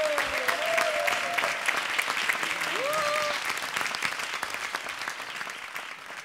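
A studio audience at a comedy show breaks into dense, sustained applause welcoming comedian Surendra Sharma, loud and steady for the whole stretch with a few brief voices and whoops rising above the clapping.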